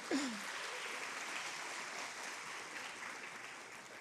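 A church congregation applauds during a sermon, a steady, moderately distant wash of clapping that holds evenly throughout, with a brief vocal sound at the very start.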